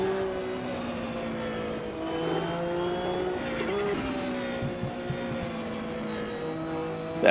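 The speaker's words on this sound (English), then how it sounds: "You can hear that turbo." A Class C race car engine roars and revs close by during a race in Spain, its pitch climbing and dropping through shifts, with a whistling turbo whine over the engine note.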